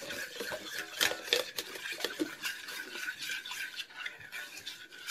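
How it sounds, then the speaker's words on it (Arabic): Yogurt is stirred into dough ingredients in a bowl, a close, quiet scraping and squelching with spoon taps against the bowl in an irregular rhythm, no talk. "نخلط"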